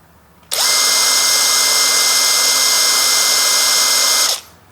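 A Dongcheng DCPB298 impact wrench spins freely at low speed, a loud steady motor whine lasting about four seconds that starts and stops abruptly.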